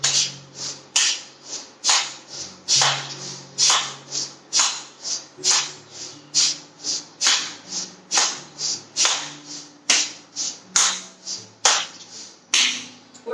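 Hands clap hard and steadily in a yoga energy-clapping exercise, about twenty sharp, forceful claps in an even rhythm, each with a short ringing decay, and no voices over them.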